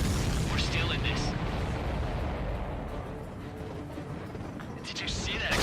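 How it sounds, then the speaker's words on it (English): An enemy aircraft blows up in a combat-flight battle from Ace Combat 7, a dense rumbling explosion and roar that swells loudly at the start and again at the end, with voices talking over it. "Did you see that explosion? Looks like that's one of them down."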